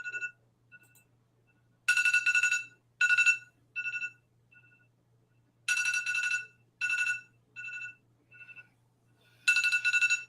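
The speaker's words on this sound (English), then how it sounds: "I forgot I had my alarm set for this" A phone alarm going off loud and close, repeating bursts of bright electronic ringtone notes in an irregular rhythm with near silence between them.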